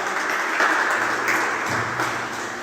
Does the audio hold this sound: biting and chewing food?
no